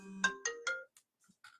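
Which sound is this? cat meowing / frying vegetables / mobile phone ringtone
mobile phone ringtone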